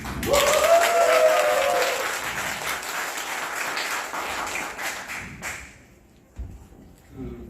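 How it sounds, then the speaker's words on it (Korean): A crowd applauds loudly for about two seconds, then the clapping thins and fades, with scattered claps and murmuring toward the end. "뜨거운 박수로 합니다"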